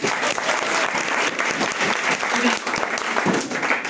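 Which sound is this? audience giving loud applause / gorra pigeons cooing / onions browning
audience giving loud applause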